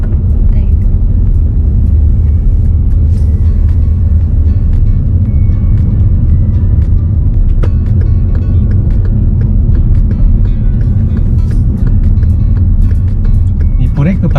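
Steady, loud low rumble of a car engine and road noise from inside the cabin during a driving lesson, continuous and unchanging, with people talking over it.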